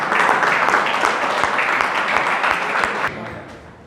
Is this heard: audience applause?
yes